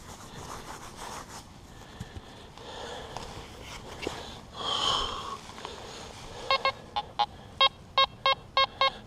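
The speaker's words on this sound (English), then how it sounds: "there's a coin signal right beside it now" A Fisher Gold Bug metal detector sounds a coin signal toward the end: a run of sharp, evenly spaced electronic beeps rising out of faint outdoor rustling and handling noise.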